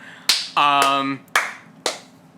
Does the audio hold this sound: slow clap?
yes